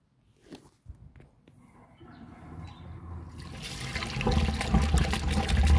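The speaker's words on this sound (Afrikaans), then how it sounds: "We're going to flush the toilet soon." A toilet flushed during a blocked drain inspection, starting with faint footsteps and knocks, then water rushing in and building to a loud, steady roar in the final two seconds.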